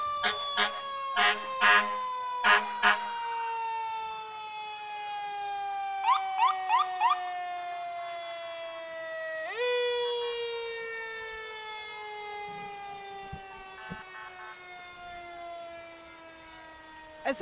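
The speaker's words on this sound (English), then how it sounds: "we can't talk over these sirens" A loud wailing siren at a Christmas parade in Destin holds a long, slowly falling tone, interrupted early by repeated horn blasts, then rises sharply and fades down again, with no talking.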